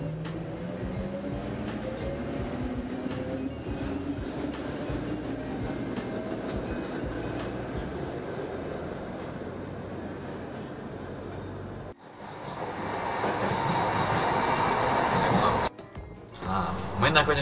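A train at an island platform of a Moscow MCD-4 commuter rail station, a continuous rumbling roar with shifting tones and a brief break before louder, brighter rolling noise; a voice speaks throughout.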